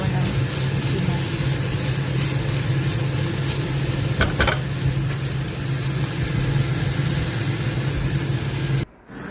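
Chayote frying in a pan with a steady sizzle and occasional stirring clatter, fairly loud and continuous, with a low hum underneath.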